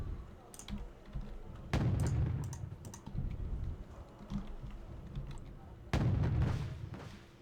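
Tank guns fire in the real-time strategy game Wargame: Red Dragon, Challenger tanks loosing two loud booming shots a few seconds apart over a steady rumble of battlefield noise and scattered clicks.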